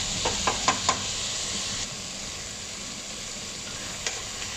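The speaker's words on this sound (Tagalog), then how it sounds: "Lutuin lang natin sa bunti itong kamates" Chopped tomatoes fry in a pan with a steady close sizzle and hiss. A spatula knocks against the pan a few times early on and once more near the end.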